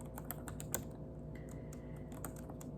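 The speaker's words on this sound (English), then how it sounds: "I'm typing this in." Quick, uneven key clicks from a computer keyboard patter softly over a low background hum, the keystrokes coming in short bursts.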